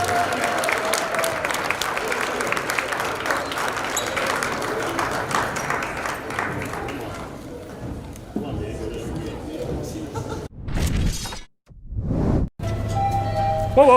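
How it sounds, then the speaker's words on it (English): Crowd applause and cheering fill the Marv Meredith Gymnasium at a high school girls basketball game honoring seniors, dense clapping over several seconds fading out, followed by gaps, bursts of noise and an announcer's voice. "how about another round of applause for all of the seniors here tonight at the Marv Meredith"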